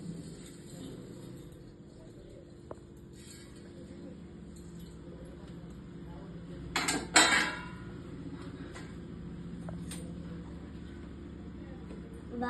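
A spoon stirs Maggi noodles in a pot, giving a brief burst of clattering scrapes midway through a steady low background hum.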